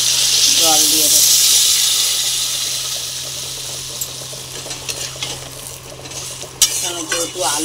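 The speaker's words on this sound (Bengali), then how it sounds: "মশলাটা একদম আলু বেগুন সব ভাজা হয়ে গেছে" Fried potato and eggplant pieces with spices are stirred in a pan, a loud steady sizzle with scraping and clinking of the spoon. The sizzle fades slightly as the stirring goes on, with a voice speaking briefly in the background.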